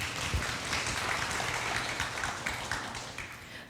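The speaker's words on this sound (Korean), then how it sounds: "큰 박수 한번 부탁드리겠습니다." A conference audience in Seoul applauds as panelists for an AI and femtech discussion take the stage; steady, moderately faint clapping fills the hall throughout.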